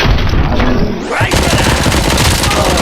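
Dense, rapid gunfire rattles almost without pause in the RoboCop: Rogue City video game, loud and close, with a brief lull around the one-second mark before the barrage resumes.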